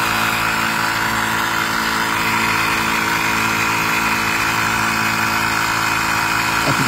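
A portable air compressor drones loudly and steadily while inflating an e-bike tire, a continuous mechanical hum with a throbbing rumble and no pauses.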